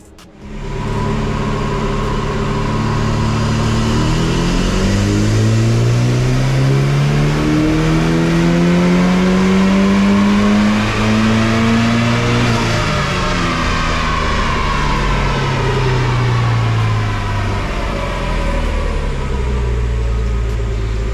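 A car with a built BMW N20 engine with port injection revs hard on a dyno, rising through a long, loud, steady pull before the pitch drops away, with no voices.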